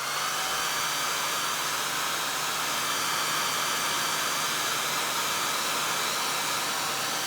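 A hair dryer blows a steady, even airy hiss close by while drying a pen-and-wash painting made with oxide ink. The noise holds unchanged throughout, with no voices.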